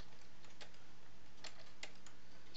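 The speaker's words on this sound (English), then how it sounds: "I'm going to type in" A few scattered keystrokes click on a computer keyboard while data is entered into accounting software, light and close in an otherwise quiet room.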